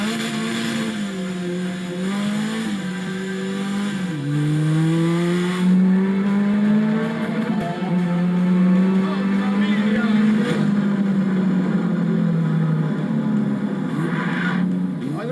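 An Ariel Atom 4R, a lightweight open sports car with 310 horsepower, revs hard with a droning engine note that climbs and drops through gear changes, loud and close, with a voice talking over it throughout.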